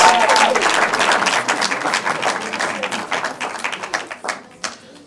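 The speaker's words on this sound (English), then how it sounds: "A round of applause again to these guys." A university audience at a law quiz semi-final applauds the contestants, dense clapping that starts loud and thins out into a few scattered claps near the end.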